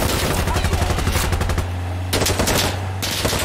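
Rapid automatic gunfire hammers at a vehicle in the tactical shooter Insurgency: Sandstorm, loud, close bursts with brief gaps between volleys over a low engine drone.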